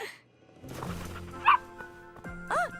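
Small dog in a Barbie cartoon scene giving two short high yips over soft background music and rustling, fairly close.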